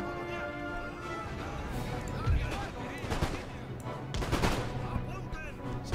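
Cannons fire canister shot in a battle in Empire: Total War, a dense, ongoing crackle of volleys under a steady din, with a voice talking over the gunfire.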